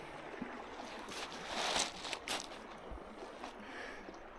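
River water flowing steadily past a river island, a soft continuous wash with a few brief splashy swells, faint and unbroken with no talk.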